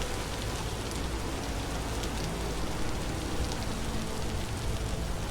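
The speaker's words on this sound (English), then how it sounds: "now it's pouring rain on us" Heavy pouring rain in the survival video game Vintage Story, a steady dense hiss of downpour lasting throughout with no talk.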